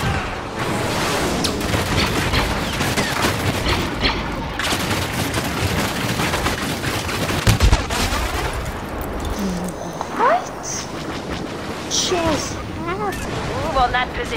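Dense, continuous blaster fire and explosions in a Star Wars Battlefront battle, rapid overlapping shots and booms filling the whole stretch, loud and busy, with voices talking over the combat.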